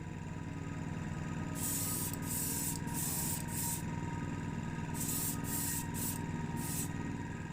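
Repeated bursts of aerosol spray hiss while spray painting a Matchbox 1981 Mini Pick Up model car, several short blasts in two clusters, over a steady low mechanical hum.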